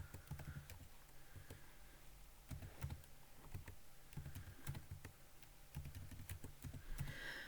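Keys on a graphical calculator are pressed as data gets entered, a close, steady run of quick, light clicks repeating irregularly for several seconds.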